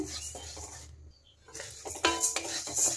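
Urad dal dry-frying in a pan while a spoon stirs it, giving a steady scraping rustle with louder clattering scrapes against the metal near the end.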